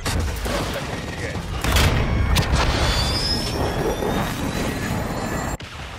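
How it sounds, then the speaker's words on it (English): Cruise missile strike in Call of Duty Modern Warfare II, a rising roar and heavy booming detonations with rumbling debris, loud and sustained before cutting off abruptly near the end. "Friendly cruise missile approaching target"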